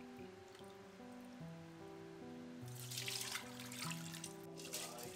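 Prawn stock and water splash as they are poured into an Instant Pot for prawn biryani, the pouring starting partway through under steady background music.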